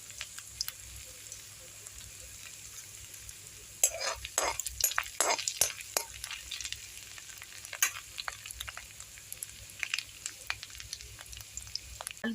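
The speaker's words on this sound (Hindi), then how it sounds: "थोड़ी सी इसे भूनने देती हूँ इसी तेल में।" Chopped garlic and onion fry in hot oil in a pan, a soft steady sizzle with sharper crackles and stirring scrapes starting partway through, close up and without talk.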